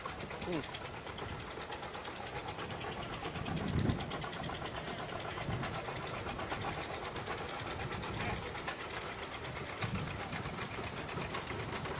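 A tractor engine runs with a steady, rough mechanical chugging as parade tractors pass, including tractor-pull equipment, with someone talking over the continuous noise.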